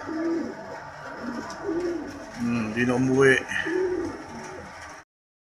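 Racing pigeons coo just after arriving home from a smash race, soft throaty calls near the microphone mixed with someone talking and outdoor background noise.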